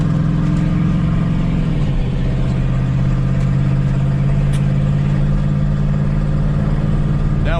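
Car engine droning steadily while driving easily, the pitch dropping once as the driver shifts the manual gearbox, then settling into an even mid-range hum with no voices.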